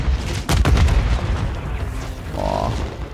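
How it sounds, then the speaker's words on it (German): A grenade goes off in Call of Duty Modern Warfare 3 in a snowy battle area, giving a loud low boom with a rumbling tail. A brief tone follows near the end. "Oh, ist eine Granate irgendwo."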